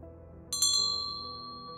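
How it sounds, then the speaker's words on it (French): A departure bell strikes once with a bright metallic ding, a quick double attack that rings out and fades slowly over a quiet background. "Le son de la cloche vous indique que c'est l'heure du départ."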